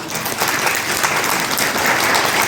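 Loud, dense clapping from a crowd, steady and continuous throughout.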